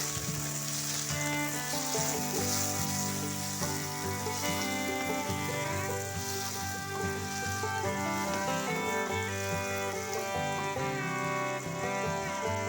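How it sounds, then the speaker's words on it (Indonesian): Melinjo fruit stir-fried in a pan for a simple Indonesian vegetable sauté, giving a steady sizzle under continuous tonal background music with no speech. "Lanjut kita masukkan buah melinjonya. Nah, ini kita oseng-oseng sebentar."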